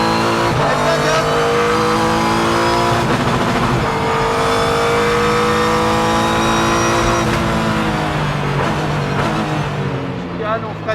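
A Renault car accelerates hard on a race track, its engine note climbing through gears in a loud, continuous drone with brief shift dips, while someone talks over it throughout.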